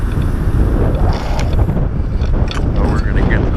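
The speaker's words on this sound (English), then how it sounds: "the wind is kind of in my favor, as much as wind could be in your favor in a situation like this" Strong wind buffets the microphone outdoors during a hazard maple tree removal, a loud continuous low roar with gusty swells throughout.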